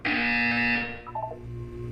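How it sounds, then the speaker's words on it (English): A loud, harsh electronic buzzer in Portal 2 sounds for about a second, then fades into a lower steady hum with faint tonal blips. "You will hear a buzzer. When you hear the buzzer, look up at the ceiling."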